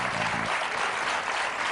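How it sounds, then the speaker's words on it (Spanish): A studio audience on a Spanish TV talk show applauds for Carmen, a short burst of dense, even clapping from many hands, with a brief low voice at the very start. "Un aplauso para Carmen"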